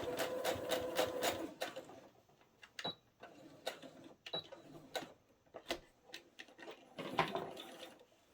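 A sewing machine stitches a mitered corner in short whirring bursts, a fast rapid run at first, then stop-start pulses with brief pauses between them, close and fairly quiet with no talking.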